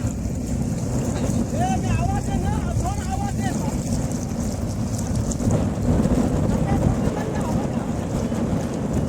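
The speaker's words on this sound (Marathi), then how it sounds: "वारा बी जबरदस्त आलेला आहे" Strong wind roars steadily into the microphone during a traditional sailboat (shipla) race final at Versova, with a dense low rumble throughout and a few faint chirps early on.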